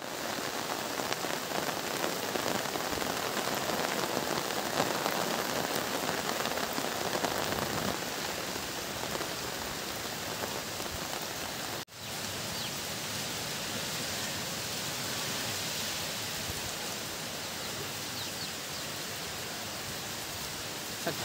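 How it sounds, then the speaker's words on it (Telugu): Heavy rain pours down without a break on a forest village, a dense, even hiss that stays loud throughout with no voices. "ఈ గ్రామంలో ఇప్పుడైతే మేము వచ్చాము, ఊరికి వచ్చాము, ఫుల్ వర్షం స్టార్ట్ అయిపోయింది."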